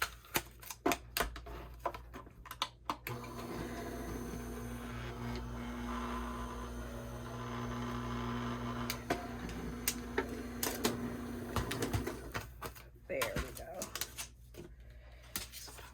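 Die cutting machine running gold cardstock and a metal die through its rollers, a steady mechanical grind for several seconds framed by clicks and handling taps before and after, with a voice talking over parts of it.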